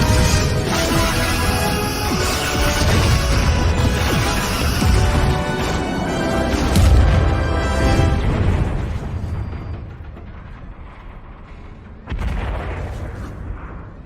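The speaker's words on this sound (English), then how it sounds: "Torpedoes away, locking phasers and returning fire" Sci-fi starship battle from Star Trek with phaser fire and torpedo explosions, a dense, loud barrage of booms and blasts layered with music, easing off briefly before another burst near the end.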